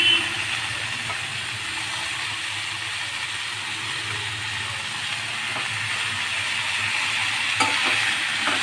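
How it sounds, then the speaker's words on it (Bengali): Water spinach, washed and chopped, being stirred as it fries in a pan with potato, a steady broadband sizzle with scraping stir strokes running throughout, close and moderately loud with no talking. "এবার আমি শাকটা ভালো করে নেড়ে নেব।"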